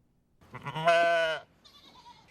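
A fainting goat at the North Georgia Zoo gives one loud, drawn-out bleat with a wavering, strained tone, preceded by a shorter rising call and followed by quieter animal noises.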